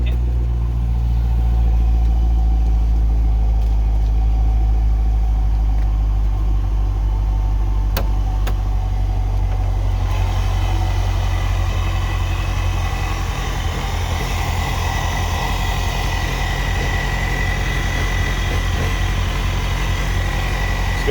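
Car engine cold-started and left idling under the hood, a steady loud low rumble throughout with a slight shift in tone partway as it settles; no talk.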